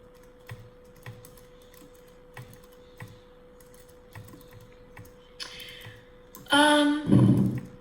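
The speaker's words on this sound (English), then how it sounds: "I hate talking when you guys are typing" Students type on computer keyboards in a classroom, producing faint scattered key taps in a loose rhythm, followed by a louder burst of noise and a voice at the end.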